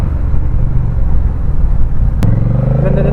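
A Honda Rebel 1000 motorcycle on a test ride, its engine rumbling loud and close, then a sharp click followed by a rising rev as the bike accelerates.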